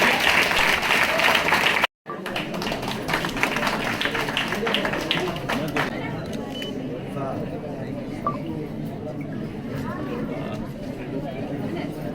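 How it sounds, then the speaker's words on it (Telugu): A crowd applauds for an MLA at a Christmas celebration, loud sustained clapping that briefly drops out, then continues and thins out under chatter and talk. "కాబట్టి వారిని ఒకసారి చప్పట్లతో అభినందించాలి"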